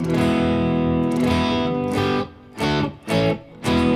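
Guitar strings, freshly tuned, ringing out in sustained strummed chords, then several short separate strums with brief gaps between them, close and fairly loud.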